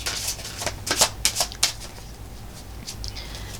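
A deck of tarot cards being shuffled by hand, a run of crisp riffling flutters and slaps clustered in the middle, close and fairly soft against a quiet room.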